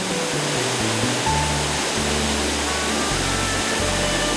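Waterfall at the third tier in Neidong National Forest Recreation Area, Taiwan: a steady, dense broadband rush of falling water fills the whole clip at an even level, with no voices.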